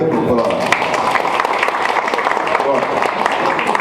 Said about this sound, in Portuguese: dá uma salva de palmas aí